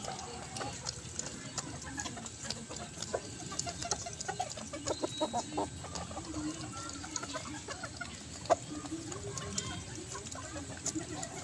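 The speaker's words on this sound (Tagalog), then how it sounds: "Tsaka sa aking mga agang manok. Yan po sila lahat." Backyard chickens cluck and murmur continuously, a busy flock heard at moderate distance with scattered sharper calls over a steady outdoor background.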